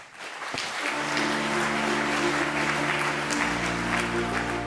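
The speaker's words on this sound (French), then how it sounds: "Vous pouvez l'applaudir lorsqu'il monte sur scène." Conference audience applauding as someone takes the stage, a steady, dense wash of clapping from a large crowd that holds for several seconds, with a low sustained tone beneath.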